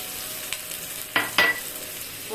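Crushed garlic dropped into a hot pan, giving a soft sizzle with two brief louder bursts of frying and stirring noise, close by, with no talking.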